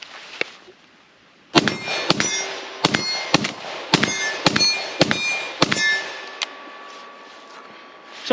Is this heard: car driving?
no